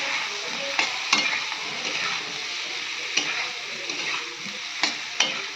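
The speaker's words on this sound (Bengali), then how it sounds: "এবার আলুটাকে ভালো করে নেড়ে চেড়ে কিছু সময়" Potatoes frying in a pan give a steady soft sizzle, broken by several sharp scraping clicks as a spoon stirs them.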